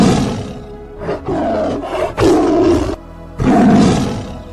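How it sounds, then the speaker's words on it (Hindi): A tiger gives a loud cartoon sound-effect roar, several long rumbling, growling bursts in close succession, with brief gaps between them and no voices. "बाघ बहुत जोर से दहाड़ता है"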